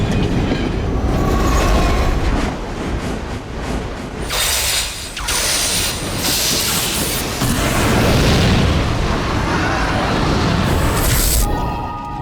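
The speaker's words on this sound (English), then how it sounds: "And when the train takes off in the set, we cut to a shot here where it continues and goes into the tunnel." A train pulls away on a film set and continues into a tunnel, producing a loud, continuous rumbling roar with clanking mechanical rattles and hissing surges throughout.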